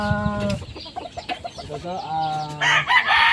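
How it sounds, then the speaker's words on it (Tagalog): Several chickens cluck in short bursts, then a rooster crows loudly and close by, with a faint voice briefly in the background. "puro manok nakita natin ito. Puro kulay pula."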